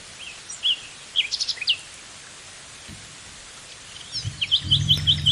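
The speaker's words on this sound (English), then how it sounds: "the distant chirp of a hidden bird" Distant birds chirp in short, scattered calls in a woodland, with a quicker run of repeated chirps near the end over soft rain-like patter.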